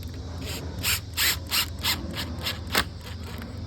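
A screw being driven into a storm door hinge while installing an EMCO/Andersen 200 series storm door: about nine rhythmic grinding bursts, each followed by a pause, close and moderate in volume.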